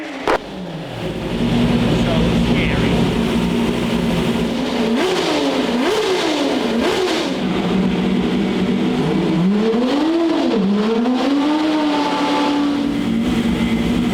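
A manual C8 Corvette drift car strapped to a dyno holds a loud, sustained engine howl. The revs sweep up and down several times in quick climbs and drops, close and dominant.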